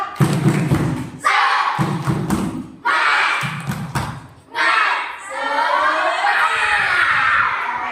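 Children performing a spirit clap at a school orientation in Indonesia, three bursts of rhythmic clapping and thumping mixed with shouting voices, then a longer stretch of crowd noise.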